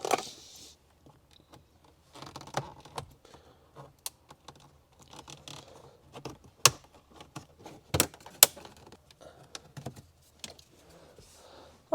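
Plastic trim panel being pried loose from an Acura TSX dashboard, sparse close clicks and sharp snaps with scraping in between, including a few louder pops as clips release, in an otherwise quiet interior.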